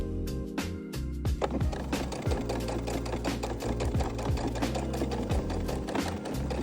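A sewing machine stitching a denim jacket runs in rapid bursts close by, with a quick mechanical needle clatter and a low motor hum, alone with no talk.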